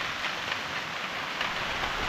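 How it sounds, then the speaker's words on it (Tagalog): Steady rain patters and drips on the leaves of newly planted eggplant crops on a farm, a continuous soft hiss of drops without voices. "epekto naman po dito yung ulan po mga farm sa mga dahon po ng ating bagong tanim"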